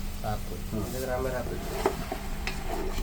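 Chicken sukka masala stirred in a pan over a high flame, a steady scraping and sizzling texture running throughout while a person talks over it.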